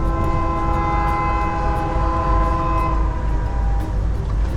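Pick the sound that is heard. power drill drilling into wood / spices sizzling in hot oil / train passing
train passing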